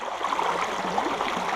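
Creek water flowing past a sluice during river prospecting, a steady close rushing and gurgling wash with no break, heard alone.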